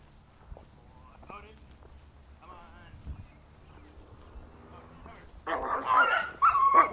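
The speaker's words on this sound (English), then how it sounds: "What kind of dog is that?" A Bernese dog gives short yips and whimpers among scattered footsteps and people talking, then a louder burst of barking and whining near the end.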